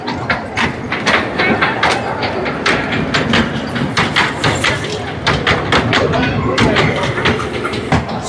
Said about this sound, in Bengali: dragon train,